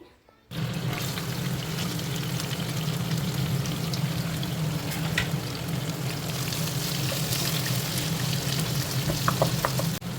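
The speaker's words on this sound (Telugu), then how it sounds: "ఆయిల్ బాగా వేడైన తర్వాత తాలింపు గింజలు వేసుకోవాలి. తర్వాత కొంచెం కరివేపాకు, ఇంకా ఆనియన్స్ వేసుకోవాలి." Mustard seeds, curry leaves and onions dropped into hot oil give a loud, continuous sizzle and crackle that starts abruptly and holds steady, with a few sharp pops near the end.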